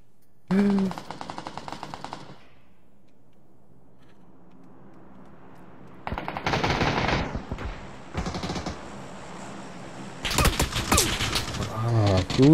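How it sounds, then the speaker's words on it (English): A video game firefight breaks out with bursts of rapid machine-gun fire, a quiet lull, then louder clusters of gunshots and mechanical clatter, close and sharp, with some voices in the mix. "Who is shooting at me?"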